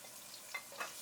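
Shallots and garlic frying in a pot, a soft steady sizzle with a few faint crackles and pops, quiet and close.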